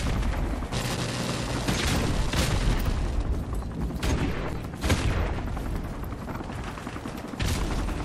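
Repeated heavy booms and crackling blasts from an airstrike in a video game shooter, overlapping rumbles with sharp impacts and scattered gunfire mixed in.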